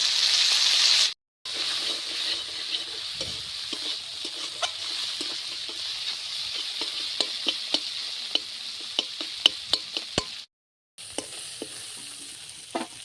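Fish fries in hot oil in a pan in a village kitchen, a continuous close sizzle broken by sharp crackles and spatter pops, with two short silent gaps.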